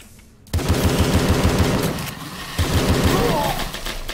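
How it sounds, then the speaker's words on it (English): A repeater shotgun fires in the arena shooter Tesla vs Lovecraft, rhythmic heavy blasts in quick succession over busy game noise, breaking off briefly before another volley. "now we got a repeater shotgun"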